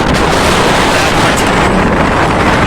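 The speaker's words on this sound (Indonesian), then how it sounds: "Terlalu kencang anginnya." Strong wind roars steadily across an outdoor microphone, a loud, constant broadband rush with gusty buffeting and no break.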